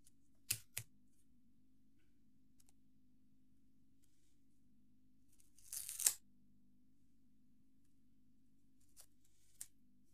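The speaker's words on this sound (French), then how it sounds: "Là je vais remettre le bout de scotch" A few short crinkly rips and crackles of Scotch tape being handled while reviewing scrapbooking stickers, with a longer tearing burst in the middle, over a steady low hum.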